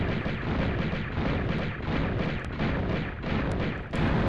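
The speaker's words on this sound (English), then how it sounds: "she's actually shooting at me also" Repeated gunfire in the 1996 PS1 Tomb Raider game, a dense run of rapid shots and booming bursts aimed at the player, steady and fairly loud with a few sharp pops standing out.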